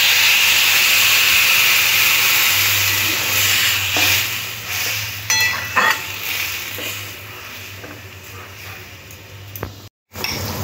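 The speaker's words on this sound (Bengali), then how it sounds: "মশলার সাথে খুব সুন্দর করে ফুলকপি আর আলুটা কষে নিয়েছি। এবারে জল দিয়ে দেব।" Water poured into a hot pan of spice-fried cauliflower and potatoes for a Bengali curry gives a loud steady hiss and sizzle that gradually settles, with a few clinks of a utensil and a brief cut near the end.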